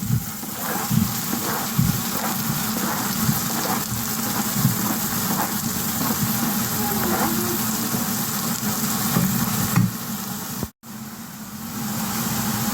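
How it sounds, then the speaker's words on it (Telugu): Tomato pieces land in hot oil with cumin seeds for a ridge gourd curry, giving a loud, continuous hiss and sizzle with bursts of spitting, heard close up with a brief dropout near the end. "ఇప్పుడు పోసి పెట్టుకున్న టమాటా ముక్కలు వేస్తున్నాను."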